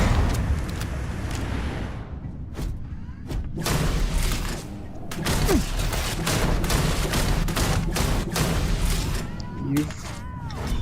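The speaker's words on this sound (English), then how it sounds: "Are they shooting at me? They are shooting at me." Enemy gunfire in the space game Starfield, with bursts of shots and heavy thuds cracking in rapid clusters over a steady low rumble, loud and close, while a person talks over the action.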